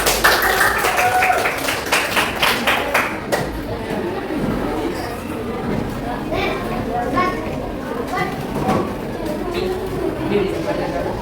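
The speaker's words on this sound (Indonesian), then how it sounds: "Kita kasih tepuk tangan sama kelompok 7." Students in a classroom give a quick round of clapping for a group, sharp claps bunched at the start, then the room dissolves into children's chatter and scattered taps.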